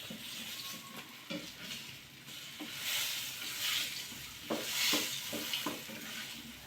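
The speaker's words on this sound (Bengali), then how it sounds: "প্রায় কমপ্লিটের দিকে আমাদের বেগুন ভাজা এখন হচ্ছে" Steady sizzling of eggplant slices frying in hot oil, with occasional light stirring and utensil taps, no talking.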